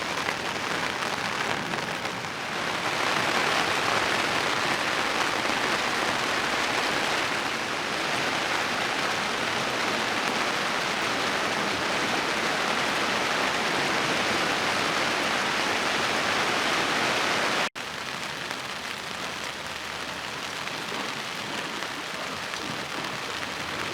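Steady, heavy rain falls continuously at a campsite on the Pacific coast, a dense, even hiss close by with a slight drop in intensity near the end, with no talking.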